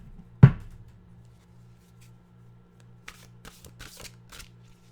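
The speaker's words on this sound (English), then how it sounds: "Let's get the Mystical Wisdom card deck out." A Mystical Wisdom oracle card deck being handled: one sharp riffle snap, then a quiet pause and a run of soft card flicks and taps, close and alone against a low hum.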